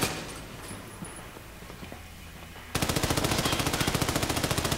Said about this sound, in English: we gotta shoot the target together